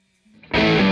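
Electric guitar through a Red Witch Famulus distortion pedal, a quiet hum that swells into a loud, sustained, heavily driven chord ringing out close.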